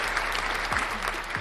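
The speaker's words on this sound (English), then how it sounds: "A round of applause again" A short burst of applause closes out a podcast episode, a steady patter of clapping at an even level with faint low thumps underneath.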